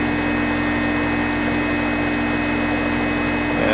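An outdoor HVAC air conditioning unit hums and blows steadily at close range while being charged with refrigerant, a constant loud drone with a tonal hum and no pauses.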